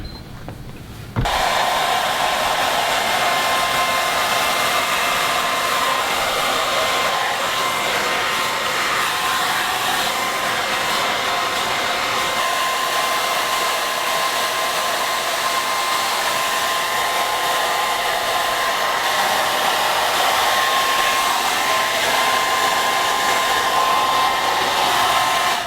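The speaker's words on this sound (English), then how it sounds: "So I'm going to blow dry right now." A blow dryer dries a client's hair in a salon, switching on abruptly after a brief quiet moment and then roaring loud and steady for over twenty seconds, with slight shifts in tone as it moves around the head.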